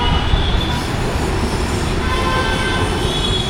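A metro train at a station in Hyderabad gives a loud, steady rumble of wheels and motors with faint squealing tones, continuous throughout, with no talk.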